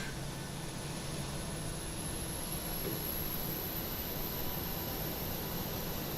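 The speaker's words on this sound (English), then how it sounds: "You can hear the APU spooling up." Boeing 737-700 auxiliary power unit spooling up in a flight simulator, a steady broadband jet-like whine and rush with a faint high tone, continuous and even throughout, no talking.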